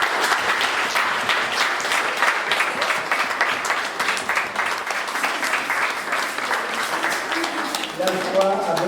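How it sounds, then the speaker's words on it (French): A congregation at a first communion service applauds with dense, sustained clapping from a large group close by. Brief murmurs of voices join near the end as the applause continues. "Un grand applaudissement"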